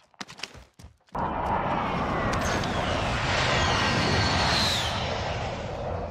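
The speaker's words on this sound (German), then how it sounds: "Feindliche Drohne über uns." A few brief clicks, then an enemy drone in the Warzone video game hums overhead, loud and steady, with a faint whine rising near the end.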